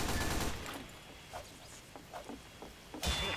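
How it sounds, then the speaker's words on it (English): Spy pistol gunfire in a multiplayer video game, a burst of sharp shots at the start and another at the end with lighter in-game clatter between, no talk. "you're shooting with your spy pistol"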